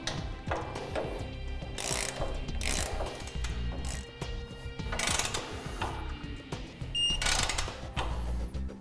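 Bolts are ratcheted tight and torqued on a Bulldog round A-frame trailer jack mount, with close, irregular bursts of ratchet clicks and metallic clanks between brief pauses.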